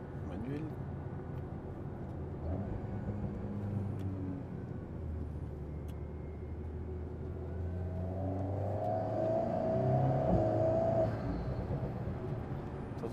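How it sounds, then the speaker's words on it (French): Alpine A110 sports car, a 250-horsepower turbocharged engine revving hard as it downshifts, with turbo whoosh and intake noise swelling from a steady low drone to a louder rise near the end, heard from inside the car under people talking. "T'entends le turbo, t'entends l'admission."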